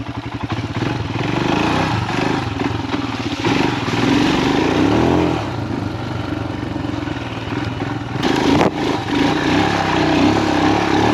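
A Himalayan 462 big-bore motorcycle ridden hard, its engine roaring loud and close throughout with steady throttle and a brief surge near the end.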